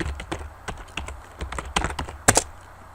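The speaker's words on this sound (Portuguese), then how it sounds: "Eu posso digitar o caminho inteiro do diretório que eu quero ir" Fingers type batch commands on a computer keyboard, a close run of crisp key clicks at an uneven rhythm ending in a couple of louder clacks, like the space bar or Enter.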